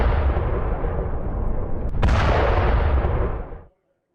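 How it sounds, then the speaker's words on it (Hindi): Heavy shelling and explosions over eastern Shujaiya, a loud continuous rumbling roar with a sharp crack near the middle, sustained for several seconds before cutting off abruptly. "पूर्वी अल शुजाइया में जोरदार गोलाबारी।"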